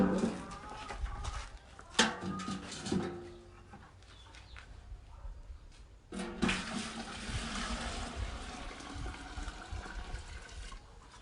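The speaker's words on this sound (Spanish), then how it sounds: "Le voy a echar más agua." Water poured from a container onto a mix of compost and manure, a splashing wash that starts near two seconds and returns more steadily after six seconds, with birds faintly in the background.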